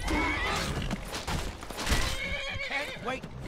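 A horse whinnies loudly in the video game The Elder Scrolls V: Skyrim, with shaky, rising and falling cries, mixed with busy game noise from a fight with bandits and some talking.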